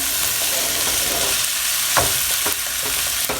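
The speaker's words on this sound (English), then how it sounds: "I'm just shouting because it's really loud because of the sizzling." Loud, steady sizzling of food frying in a hot pan, with a few scraping stirs cutting through the crackle.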